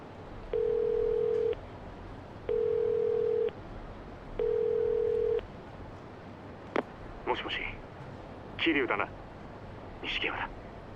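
In the video game Yakuza 0, a telephone rings three times as even, steady tones separated by pauses, followed by brief clicks and muffled bursts as the line connects.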